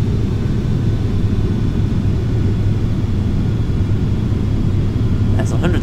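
Airliner jet engines spooling up during the takeoff roll in Flight Simulator X, a steady loud roaring rumble that holds throughout, with a faint chime at the very end.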